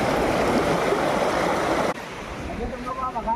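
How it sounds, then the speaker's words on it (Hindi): A mountain river rushes steadily in a loud broadband wash close by, then the sound cuts to a softer, nearer trickle with faint voices at the end. "है अब नदी शुरू।"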